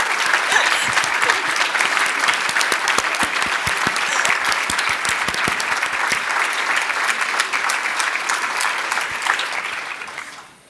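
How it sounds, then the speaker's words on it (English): Sustained applause from a large summit audience, dense clapping filling the space for about ten seconds before tapering off at the end. "give yourselves a round of applause"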